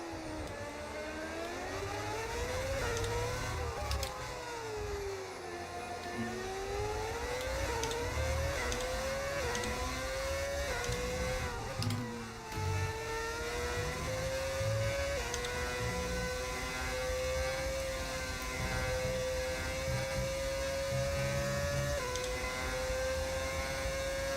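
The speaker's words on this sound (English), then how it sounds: "Car sounds like shit." A high-pitched Formula 1 car engine in a video game drones steadily, its pitch rising and falling as it revs through gears, loud and continuous.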